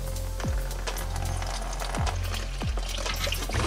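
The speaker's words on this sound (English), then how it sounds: "So this wing nut here is the nut for the water. And apparently it just gushes up." Green engine coolant gushing out after a drain wing nut is loosened on a Toyota MR2 being prepped for engine removal, a steady splashing pour with a few clanks over it.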